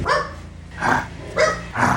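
A dog barks close by, three or four loud barks spaced roughly half a second apart, with nothing else around them.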